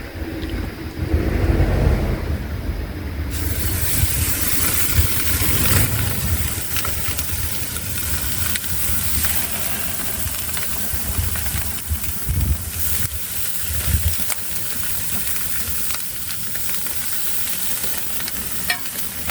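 Food searing on a grill preheated to about 500 degrees, a loud continuous hiss and sizzle that starts suddenly and stays steady, close by, with no talking.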